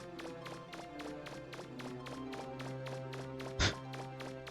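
Character footsteps in the PS1 game Mega Man Legends 2: a quick, steady run of sharp taps over continuous background music, with one brighter burst near the end.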